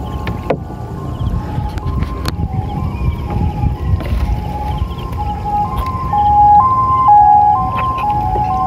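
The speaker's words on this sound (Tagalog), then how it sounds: "Ingay ng mga ambulansya." Wailing ambulance sirens sound steadily over a loud, windy background, their rising and falling tones growing stronger toward the end, with no talk.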